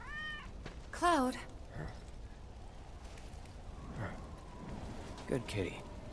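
A cat in the video game Final Fantasy VII Remake gives a few short rising meows near the start, mixed with game ambience, footsteps and brief character voices.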